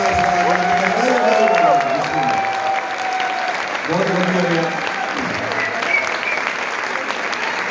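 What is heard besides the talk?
audience applause at a Punjabi poetry mushaira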